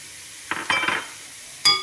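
Onion, ginger and garlic sauté in a pan with a low sizzle, broken by a few stirring scrapes and utensil clinks against the pan.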